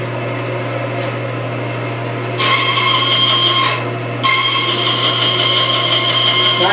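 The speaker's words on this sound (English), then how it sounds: "doing with a bandsaw like this" A bandsaw runs with a steady motor hum, and its pitch lifts into a brighter whine during two stretches of cutting wood for a big sign pattern.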